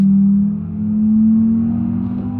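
A steady car engine drone in BeamNG.drive with a strong low hum that swells, dips slightly, then rises again, loud and continuous with no voices.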